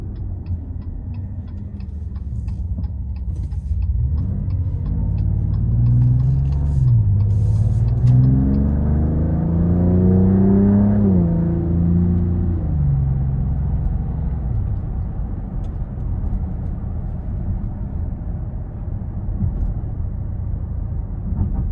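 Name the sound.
2026 Dodge Charger Scat Pack accelerating onto the interstate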